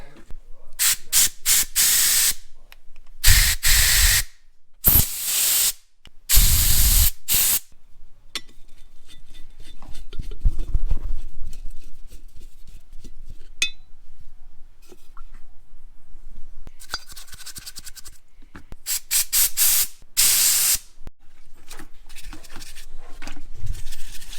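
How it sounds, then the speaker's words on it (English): Compressed air blower blasting through the holes and orifices of a cleaned carburetor during rally car prep: several loud hissing bursts in quick succession early on, a quieter stretch, then further shorter bursts near the end. "then blow out all the holes and orifices with the air blower"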